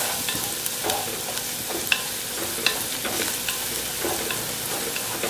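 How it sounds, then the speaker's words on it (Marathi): Garlic fries in oil in a pot for a traditional Malvani chicken curry, a steady sizzle broken by repeated scraping stirs of a spoon against the pan, close and fairly loud. "हे बघा सगळं लसूण पण मस्त फ्राय होऊ द्यायचं"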